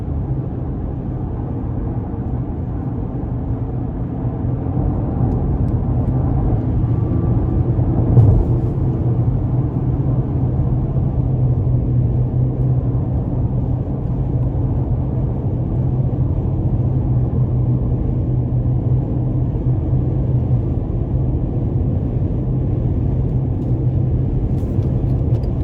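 Inside the cabin of a 2020 GMC Canyon SLE Elevation Edition 2WD pickup cruising on the interstate, a steady low road rumble and muted wind hiss fill the space without any talking.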